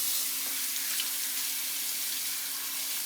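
Running water from a tap rinses a vegetable to wash out sand, a steady broadband hiss holding evenly throughout with a faint low hum underneath and no voices.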